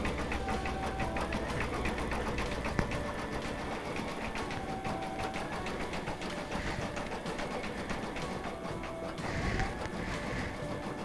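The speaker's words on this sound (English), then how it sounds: "So now we're going to go ahead and stitch our monogram." An embroidery machine stitches an interlace monogram onto the bottom of a sweatshirt, giving a steady, rapid mechanical whirring and clatter that runs throughout at close range.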